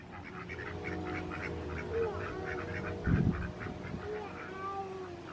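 Ducks on a river quack in scattered, overlapping calls at moderate distance, with a brief bump of handling noise and steady outdoor background.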